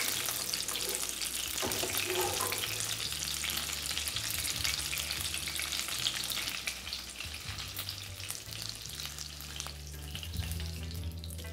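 Cauliflower florets frying in oil in a pan while cooking a bhetki fish recipe with potato, a steady loud sizzle and crackle with occasional stirring scrapes, close and continuous, no voices.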